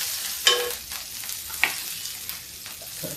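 Cumin, garlic and green chilli fry in a hot pan on a gas stove, making a soft, low sizzle with a few sharp clicks of stirring.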